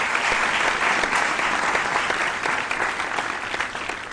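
An audience applauds quiz contestants at a senior high school quiz competition, a dense, continuous clapping from a crowd that holds steady and loud for several seconds.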